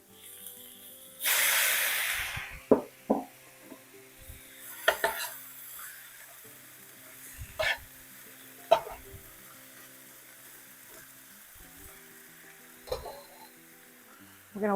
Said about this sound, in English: Now I'm going to be dropping in my shrimp.